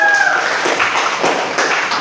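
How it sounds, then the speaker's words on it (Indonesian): A small classroom group applauds a student. The claps are scattered and fairly light, close to the listener, and run for a couple of seconds with no talking. "beri tepuk tangan untuk Tiara"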